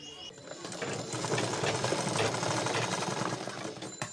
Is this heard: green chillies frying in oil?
no